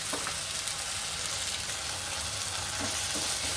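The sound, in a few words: tomatoes frying in pan for paneer do pyaza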